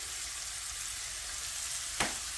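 Onions and carrots sizzle in a hot pan for veggie fried rice seasoned with ginger and salt, a steady close frying hiss with one brief louder burst near the end.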